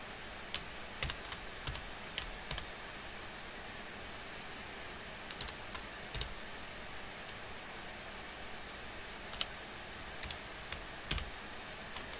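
Computer keyboard keys are tapped in scattered clusters while a formula is entered into a spreadsheet, with crisp, close clicks separated by short pauses over a steady background hiss and no voices.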